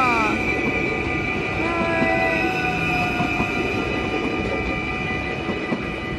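A double-unit Arriva passenger train passes the station at Susteren, a loud continuous rumble of wheels on rails with high squealing tones running throughout.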